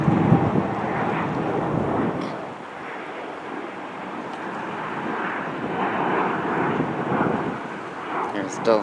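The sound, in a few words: Delta Airlines Airbus A320 airliner approaching Boston Logan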